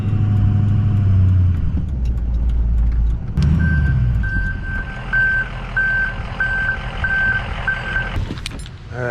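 A truck backing a trailer into a sloping residential driveway, with an engine rumbling close by and then a run of evenly spaced reversing beeps, ending in a short hiss and clunk.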